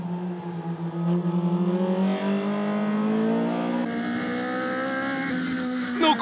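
Toyota AE86 race cars scream down a track in a close race, one engine revving high and climbing steadily through the gears, loud and near, with a brief dip at a shift before pulling again.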